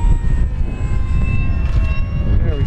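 Engine of a Dynam Spitfire Mk.Vb RC float plane on a landing approach, a loud continuous buzzing drone with a shifting pitch as it passes close, with no voices.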